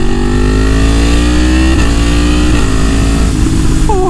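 A Yamaha MT-10 1000cc motorcycle accelerates hard, its loud, close engine note climbing steadily in pitch through the gears with no talking.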